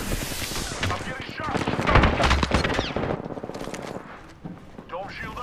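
Gunfire in the video game Apex Legends crackles in rapid bursts and volleys, loud and close, with sharp repeated shots layered over busy game noise while a voice talks.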